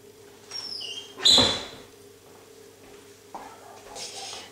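A single sharp knock of a door closing, close by, followed by quieter rustling and faint clatter in a hushed room.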